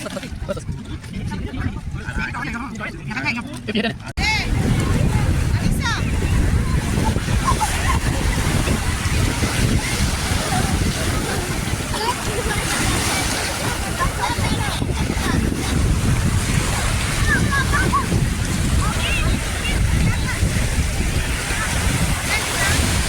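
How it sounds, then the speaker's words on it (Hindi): Ocean waves breaking on a beach at Mesaieed, Qatar, a steady, loud wash of surf that rises after a few seconds and roars on continuously, mixed with wind noise on the microphone. "इन मौजों और इन लहरों का आवाज़ सुनना"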